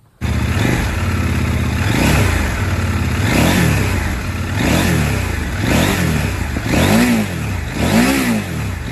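A 2023 CFMoto 800NK motorcycle with a 285-degree irregular firing order and electronic throttle revs hard, close and loud, in a run of repeated rising and falling blips with no talking.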